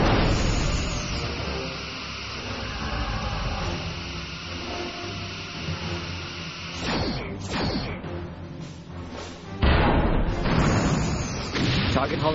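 Starship torpedoes firing in the game Star Trek Bridge Commander: a sustained hum of ship noise broken by several whooshing launches and booming impacts, with a sharp blast near the end.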